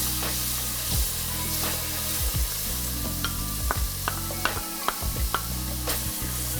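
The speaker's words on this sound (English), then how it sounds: "I'm going right in with some onion." Chopped onion sizzles loudly in a dark roux for seafood gumbo, a steady frying hiss broken by repeated scraping stirs and small pops close by.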